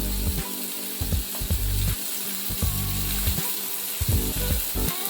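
A tomato chutney seasoned with salt and chili powder is stirred in a pan, rhythmic scraping and clattering spoon strokes over a soft sizzle, close and fairly loud.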